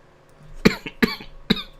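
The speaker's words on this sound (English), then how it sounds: "I really don't mean to cough like this" Three sharp, close coughs from one person in quick succession, each a brief dry burst with short pauses between, in a quiet room.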